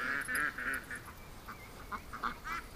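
An injured duck found in a bush, its belly torn open, gives a run of hoarse quacking calls, loud and close at first and then weaker, broken calls over outdoor background noise.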